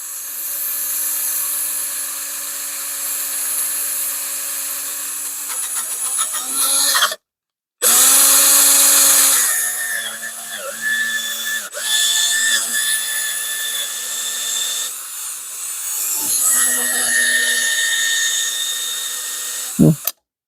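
A power drill whines at a steady high pitch, running in long bursts that spin down and restart, with one brief full stop partway through; no voices are heard.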